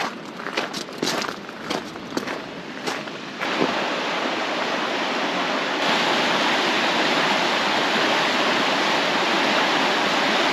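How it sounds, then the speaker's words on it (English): An Alaskan creek rushes steadily and loudly nearby, a broad continuous wash of water; footsteps crunch over the first few seconds before the flow swells and holds on its own. "The sound of that creek running through here"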